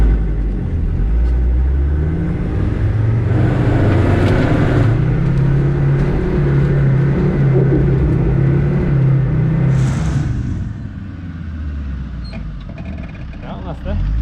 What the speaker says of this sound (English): I need to prove that I can drive it with my Defender